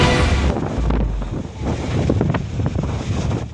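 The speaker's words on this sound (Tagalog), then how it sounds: "Makikita ang hampas ng alon sa seawall ng Block 2 sa Baseco, Maynila" Storm waves surge and crash against a seawall at Block 2 in Baseco, Manila, during a typhoon, a loud, continuous roar of surf with heavy wind buffeting the microphone and no voices.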